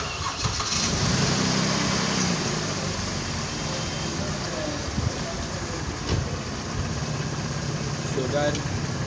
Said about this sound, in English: So I will have to start the car now.